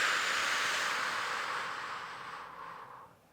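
A long, steady breath exhaled during a Pilates exercise, a close airy hiss that holds evenly and then fades out over a few seconds.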